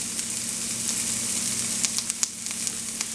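Green pepper sizzles steadily in a hot pan while a frittata is being made, a close, constant frying hiss with a few sharper pops near the end and no talking.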